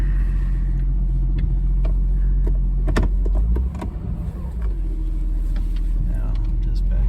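A 1965 Mercedes-Benz 220SE Cabriolet maneuvering at low speed with a deep steady engine idle and rumble, several sharp clicks and knocks, and people talking nearby.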